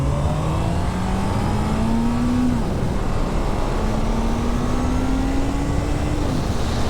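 A Honda CB1 naked motorcycle fitted with Dunlop Mutant tires accelerates hard, its engine note climbing steadily through two long gear pulls with a brief dip between shifts, loud and close over constant wind rush.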